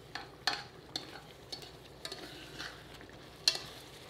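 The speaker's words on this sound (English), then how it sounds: "Give it a stir." Vegan butternut squash pasta sauce being stirred in a pan, a soft low simmer broken by light periodic scrapes and taps of the spoon, one slightly louder knock near the end, no voices.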